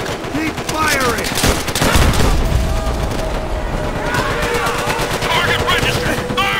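Machine gun fire in Call of Duty: World at War, with loud, rapid sustained bursts rattling throughout, mixed with shouted voices and battle noise.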